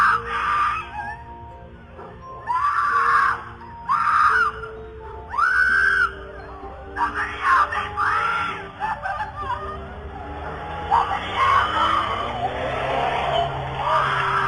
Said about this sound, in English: a woman was heard screaming, "Help me, somebody help me," in a car that was speeding down the neighborhood